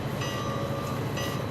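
A Bombardier bi-level commuter train running in a railroad video game, a dense, steady rolling rumble with a faint sustained tone on top, loud and close with no talking.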